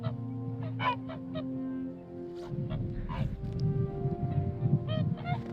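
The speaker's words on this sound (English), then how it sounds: "Got some hooper swans." Whooper swans honking outdoors, several bright, repeated honking calls rising over a low, steady rumble, moderately close, with no talk.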